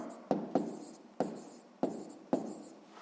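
Writing by hand on paper while working a school math exercise, a close, quiet scratching in short repeated strokes, each beginning with a crisp touch of the pen, no voices over it.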